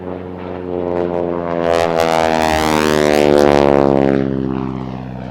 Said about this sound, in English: we really should mention that very distinctive engine noise, this Pratt & Whitney one